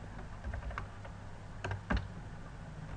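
Clicks of typing on a computer keyboard, a quiet, irregular run of light keystrokes with a couple of firmer taps, close by and with no talk.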